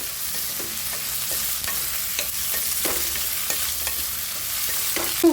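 Spinach or fenugreek leaves sauté in a pan, with a constant close sizzle broken by repeated scraping stirs of a spatula at an uneven rhythm.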